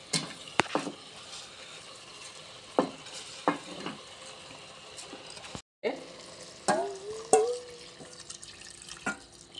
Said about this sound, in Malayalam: നമ്മൾ ഇതിലേക്ക് അരി ചേർക്കുന്നുണ്ട്.